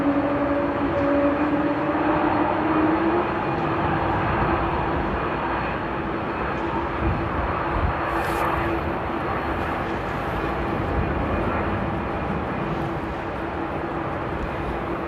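Aircraft at Amsterdam Airport in the aftermath of Storm Henk, a steady loud engine roar with a droning tonal whine, continuous and fairly near throughout, with no talk.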